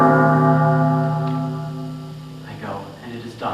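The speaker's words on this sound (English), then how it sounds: "The bell invites me." A single bell tolls in a 2014 high school stage production of Macbeth, its sustained, ringing tone slowly fading over a couple of seconds before a voice begins near the end.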